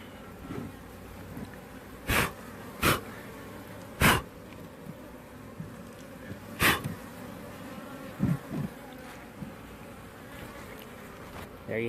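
Honey bees buzz around an open hive, a soft steady hum broken by several loud, sharp bursts of handling noise close to the microphone.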